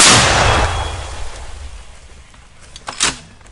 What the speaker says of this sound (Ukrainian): Гармата вогонь. Постріл!